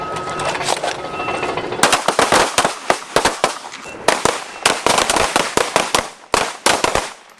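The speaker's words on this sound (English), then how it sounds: "working on their firearms proficiency, not only with the handgun, but with the rifle as well" Repeated gunfire from police SWAT school firearms practice with handguns and rifles, a rapid string of sharp, loud shots in irregular bursts, some overlapping, after a quieter opening.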